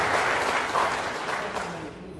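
Audience applause at a national reconciliation week closing ceremony, a broad wash of clapping from a large crowd that slowly tapers toward the end.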